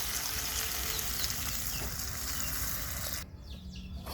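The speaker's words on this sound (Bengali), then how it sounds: "এই তো ডিমগুলো ভেজে রাখছি" Quail eggs fry in an oil-filled pan with a dense, steady sizzle that fills the clip at close range, then cuts to a quieter background near the end.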